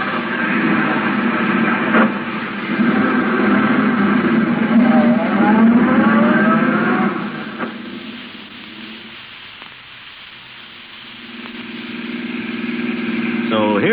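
Taxi cab engine revving and pulling away in pursuit of a gray sedan, a radio drama sound effect, loud and sustained before easing to a lower steady rumble.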